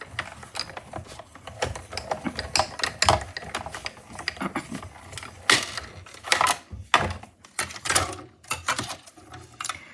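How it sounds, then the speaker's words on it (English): Hand-cranked die-cutting machine with a paper banner fed through, close irregular mechanical clicking and ratcheting that grows louder and denser toward the end, no talking. "I'm gonna crank this through again"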